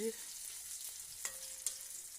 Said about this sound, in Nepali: अब यसमा प्याज पनि हाल्दैछौँ ट्याक्क। अब चलाउँदैछौँ।